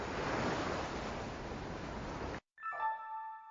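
Ocean waves wash steadily onto a beach as a loud, broad rushing surf with some wind buffeting, then cut off abruptly into a brief tonal sound.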